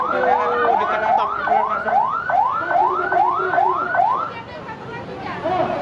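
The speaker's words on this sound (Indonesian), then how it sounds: "Buka jalan, ambulan masuk." A wailing ambulance siren sweeps up and down in a fast repeating pattern, loud and fairly close, then cuts off near the end amid street noise in front of the DPR building during a clash.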